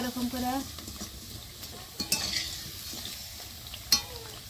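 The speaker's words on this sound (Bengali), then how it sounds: "এরকম করে সব ফুলুরি ভেজে নিব" Cabbage pakora (fuluri) frying in hot oil with a soft sizzle, broken by a few clinks of a utensil against the pan, all fairly quiet and close.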